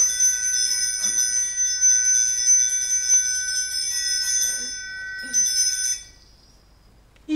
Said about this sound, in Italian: tutti i campanelli della casa avevano cominciato a trillare